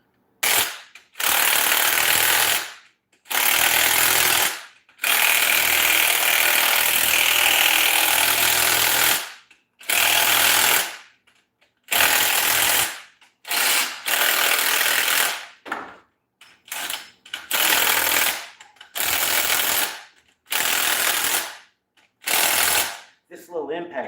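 A small impact wrench drives the fine-thread stock bolts on a Ford 9-inch rear end, rattling loudly and close in about a dozen hammering bursts, long at first and then quicker and shorter, separated by silent gaps.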